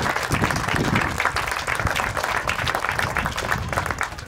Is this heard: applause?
yes